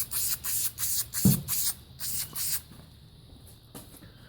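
Short repeated hisses of VHT Wrinkle Plus spray paint from an aerosol can, applied in bursts over rags laid on a table, then trailing off into quiet; one soft knock partway through.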